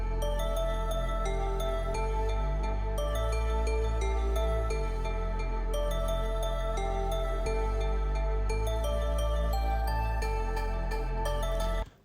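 A drum and bass intro plays a lead melody on a soft synth preset over deep sustained bass, with smooth flowing notes in a continuous musical passage and no talk.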